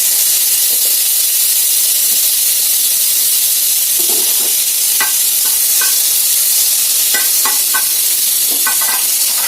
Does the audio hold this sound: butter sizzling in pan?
yes